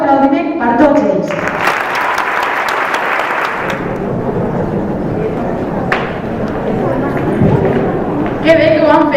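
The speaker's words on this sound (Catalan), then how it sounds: "un fort aplaudiment per tots ells" Audience applause at a secondary school festival, loud and steady clapping mixed with cheering voices and a booming hall sound, with speech and shouts woven through.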